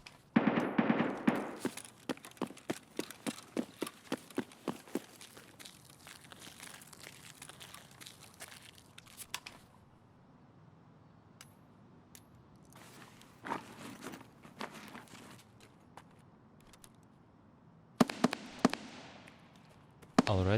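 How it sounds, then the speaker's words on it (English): Gunfire echoes across Streets of Tarkov in Escape From Tarkov, with a run of rapid, evenly spaced shots, then a quiet stretch and later scattered bursts, all sounding distant and faint. "I can hear somebody shooting away"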